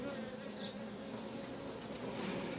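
Honeybees hum densely inside a hive as the queen destroys a queen cell, a steady close buzzing that holds unchanged throughout with no voices.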